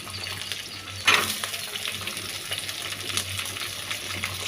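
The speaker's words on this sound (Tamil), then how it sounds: "அதையும் போட்டு நல்லா வதக்கிட்டு" Small onions sautéing in a pan for a sardine fish curry, a steady close sizzle and crackle with a sharp burst of frying and stirring near the start, then continuing evenly without speech.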